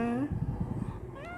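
A small striped tabby kitten gives a clear, close meow, with a person talking around it.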